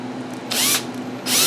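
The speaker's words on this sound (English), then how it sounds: "All right, let's get this first hole drilled." Power drill boring a hole for a six-foot flag pole, two loud bursts of high whining drilling separated by a short pause, close by with a low steady hum underneath.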